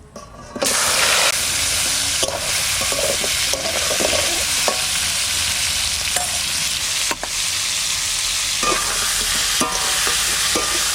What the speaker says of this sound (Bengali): সর্ষের তেল, মাছের মাথাটা ভেজে নিই।